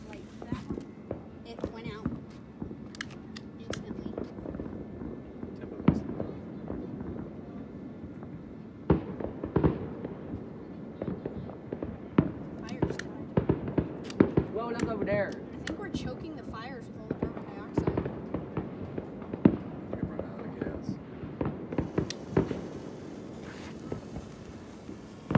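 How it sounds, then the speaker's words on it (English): Fourth of July fireworks and sparklers crackle and pop in a steady scatter of sharp bursts, some close and loud, others distant, continuing throughout while people talk now and then. "Those sparklers."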